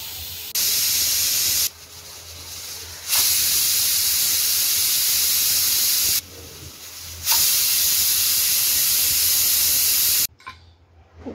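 A pressure cooker cooking jackfruit vegetable hisses loudly as it vents steam, with long sustained bursts of whistling release broken by short quieter pauses, then cutting off near the end.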